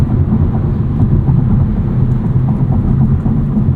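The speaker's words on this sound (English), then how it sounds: "on the highway, you can hear there's a little bit of tire noise" Tire roar inside a 2024 Kia Forte GT with a dual-clutch gearbox cruising on the highway: a constant, loud low rumble of rubber on pavement filling the cabin without letup.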